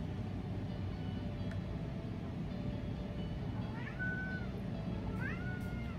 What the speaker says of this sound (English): I'm sorry if you hear that little fur baby down there. That's my cat, Batman.